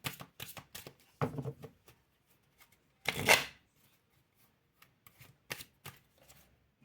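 Cards for a reading are shuffled in quick bursts of riffling and soft slaps, close and fairly quiet, with short pauses and one longer riffle midway.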